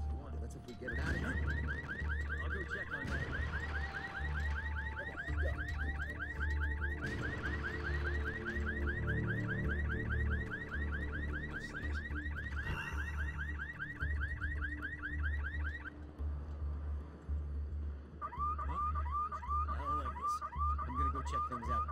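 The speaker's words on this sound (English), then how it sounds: "Can start a car's alarm to lure away the guards from their posts." Car alarm in Splinter Cell: Conviction, a rapid repeating electronic whoop that pulses steadily for long stretches, loud over a low ambient hum, pausing briefly before starting again with a different warbling tone.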